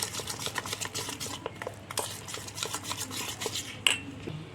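Pakora batter for aloo pakora gets mixed in a bowl after a pinch of baking soda goes in, giving a steady run of close, wet scraping and stirring strokes with occasional light clinks of the spoon against the bowl.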